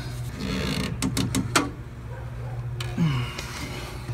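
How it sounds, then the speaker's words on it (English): A strap wrench works loose the fuel filter on a 1999 Fleetwood Discovery's Cummins 5.9 diesel. Several close, quick ratcheting clicks and creaks come in a short burst, followed by a single strained squeak, over a low steady background hum. "get the strap wrench on this. Trying to loosen this thing up."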